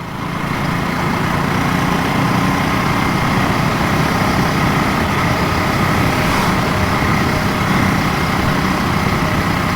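KTM 390 Duke single-cylinder motorcycle engine droning steadily while riding, a loud constant hum mixed with rushing wind noise, no gaps or talking.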